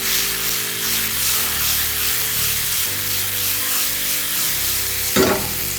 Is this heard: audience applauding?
no